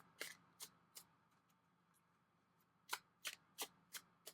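Tarot cards shuffled in quick, crisp riffling bursts, three close together, a pause, then five more in a row; near and clear, no voices.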